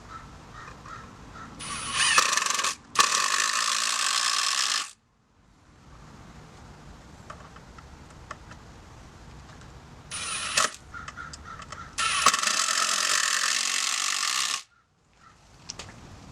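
Screws being driven into a DIY wooden target stand, with two loud bursts of a power driver whirring, each lasting a few seconds and separated by quieter handling noise.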